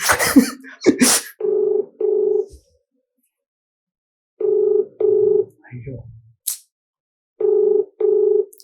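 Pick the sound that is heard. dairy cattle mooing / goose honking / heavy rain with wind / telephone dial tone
telephone dial tone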